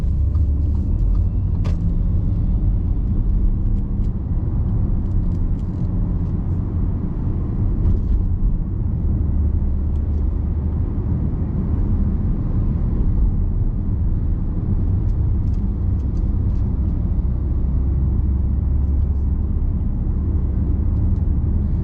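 A 2013 Audi SQ5 3.0 BiTDi Tiptronic quattro diesel SUV on a test drive, heard from the cabin as a steady, loud low engine and road rumble that continues without a break, with no talk.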